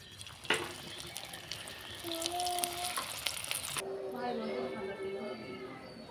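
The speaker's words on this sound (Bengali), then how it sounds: "রোলগুলো একে একে ভেজে নেব।" Samosa rolls frying in oil, with a steady, moderate sizzle, occasional clinks of a utensil and some brief tonal sounds. After a sharp change partway through, the frying continues with a different, hissing texture.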